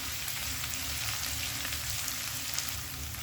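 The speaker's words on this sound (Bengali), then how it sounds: "হাই ফ্লেমে রসুন আর আদা কুচিটা 30 থেকে 40 সেকেন্ড ভেজে নেব।" Chopped garlic and ginger frying hard on a high flame, a dense, bright continuous sizzle and crackle, close and steady for a few seconds with no talking.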